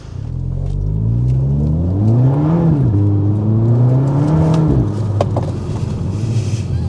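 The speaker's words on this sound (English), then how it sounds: "when we get some load out of the exhaust, it's going to sound incredible" A 2000s Volkswagen Golf GTI Mk5 with a new exhaust revs up loudly with a deep exhaust note, pitch climbing, dropping briefly, then rising again as it accelerates close by.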